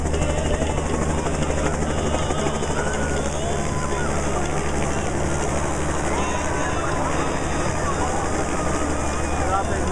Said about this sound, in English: Here comes the helicopter again.